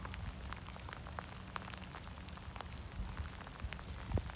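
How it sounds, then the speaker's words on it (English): Heavy rain falls by the Hudson River on a very rainy day, a faint steady patter of drops with occasional louder splashes, no voices. "The Hudson River on a very, very rainy day, friends."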